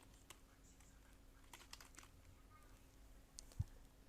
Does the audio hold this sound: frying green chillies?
no